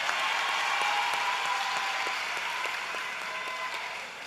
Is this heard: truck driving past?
no